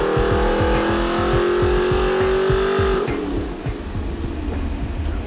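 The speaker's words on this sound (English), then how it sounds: "Warming up the motor and giving the computer time to get acquainted with our upgrades, we can see how our first date on the dyno goes." A Chevy LQ4 V8 with upgraded intake runs on a dyno, a loud close engine roar with rapid pulsing firing beats for three seconds before the revs drop and it settles into a rougher, slightly quieter idle-like rumble.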